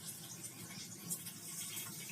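Water is poured steadily into a cooking pan to start a jaggery syrup for potato dhokla, a continuous close hiss and splash with no talking.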